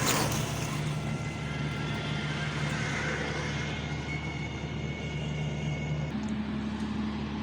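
Road traffic passes a roadside plot in an industrial area of Ashulia around midday, a continuous broadband rumble with steady engine drone and a tonal hum that shifts near the end, with no voices.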